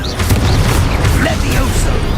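A Confringo fire-blast spell from the Hogwarts Legacy video game, heard as loud, dense booming bursts layered over constant game noise and a shouted voice.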